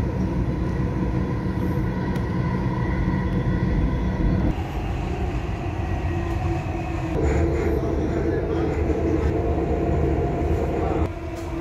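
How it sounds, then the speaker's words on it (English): A Dubai Metro train rumbles and hums with shifting tones as it rolls into the station and slows, a steady mechanical drone throughout. "Ayan na po yung train."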